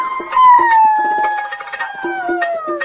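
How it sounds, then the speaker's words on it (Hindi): A high, wavering howl that glides slowly downward over about three seconds, with a second voice and short barks or yelps mixed in, like a fox howling along with a pack of foxes, loud and close. "ये देख आदतवश वो लोमड़ भी लोमड़ियों के सुर में सुर मिलाकर चिल्लाने लगा।"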